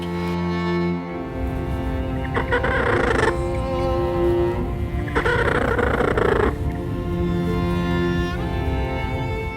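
A sick young chicken weakened by mites makes raspy, strained clucking and croaking calls in a couple of longer bursts over a steady background hum.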